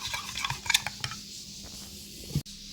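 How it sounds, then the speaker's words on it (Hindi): A spoon stirring sugar into tamarind and plum chutney in a pot, quick close scraping and clinking strokes with light wet squishes, ending in a sharp knock against the rim. "इसमें थोड़ी सी और चीनी मिक्स करते हैं।"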